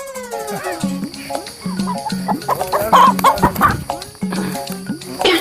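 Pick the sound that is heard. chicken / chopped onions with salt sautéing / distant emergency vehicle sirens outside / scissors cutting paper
chicken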